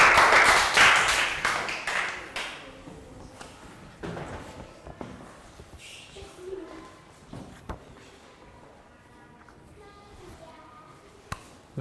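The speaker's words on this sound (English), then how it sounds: "Round of applause for Pat." Children in a health education class clap for a classmate named Pat, a short loud burst of clapping at the start that tapers into scattered claps and classroom noise.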